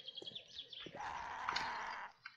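A bird in the survival game 7 Days To Die gives a run of squawking, chirpy calls that close into one louder, drawn-out cry before fading, heard faintly without any talk.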